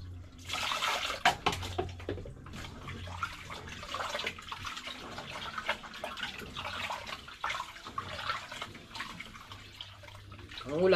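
Rice being washed in water, with splashing and swishing at close range that continues steadily throughout, the water stirred by hand with occasional louder sloshes.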